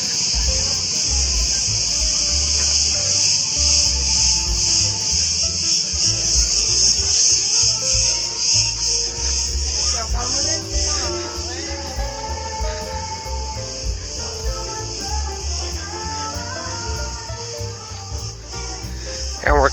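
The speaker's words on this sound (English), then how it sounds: "The cicadas are very active." Dense, loud cicadas drone steadily through a hot summer day in the old town of Rethymno, Crete, a continuous shrill chorus that carries on under faint background sounds of people and the street.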